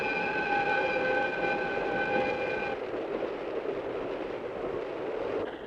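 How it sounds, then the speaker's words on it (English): An express train rushes past in a steady, loud roar with a high whistling tone over the rumble for the first half, then a broad continuous rush that holds to the end, no voices. "Suguru, it's the express."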